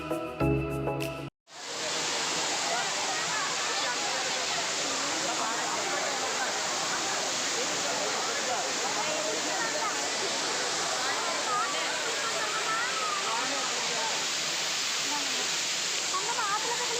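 Thiruparappu waterfall in Kanyakumari running at medium flow: a dense, steady roar of falling water that fills the scene for many seconds after a short burst of other sound at the start.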